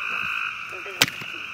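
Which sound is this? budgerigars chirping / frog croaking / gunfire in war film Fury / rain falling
frog croaking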